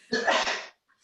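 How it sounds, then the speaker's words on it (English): A single loud, close sneeze, a sudden explosive burst lasting about half a second, followed by a brief quiet. "that sneeze."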